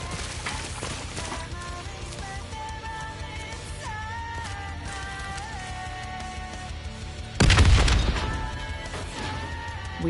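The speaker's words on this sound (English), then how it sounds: "The explosion blocked our path." A sudden explosion booms in the Call of Duty: Black Ops 3 Nightmares campaign, a single loud blast with a rumbling tail that rises out of ambient game sound and music.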